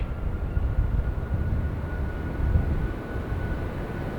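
Heavy jet aircraft engines rumble in a steady broadband roar during a takeoff roll, heard from onboard, with a faint constant whine above and no talk.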